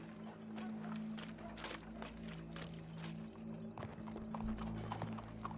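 Horse hooves in Red Dead Redemption II clip-clop in a steady trotting rhythm, close and moderately loud, with a low background hum.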